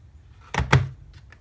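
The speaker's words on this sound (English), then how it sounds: "The door can close now." Two quick plastic clacks close together as a sprinkler timer's door snaps shut, followed by a faint rattle in a quiet room.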